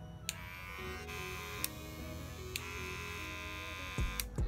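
A cordless Wahl Senior electric hair clipper runs with a steady, close buzzing hum, with a few faint clicks and a brief rustle near the end.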